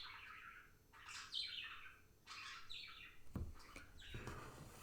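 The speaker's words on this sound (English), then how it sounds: "Oh, there's a bird in my bird feeder." Small bird chirping and squawking at a window bird feeder, a series of bright repeated calls in short bursts, fairly close, with a soft thump near the end and no talk.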